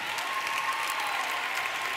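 Sustained crowd applause at a university graduation ceremony, many hands clapping in a thick, even roar that holds steady throughout without pauses or voices.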